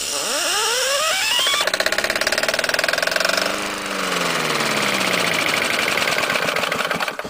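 Briggs & Stratton small engine with no ignition coil being spun up until it catches, rising cranking whine giving way to a loud, fast, rough chugging run that sags in speed before picking back up, close by.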